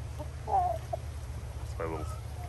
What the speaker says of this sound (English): Look, that's a big rooster, huh?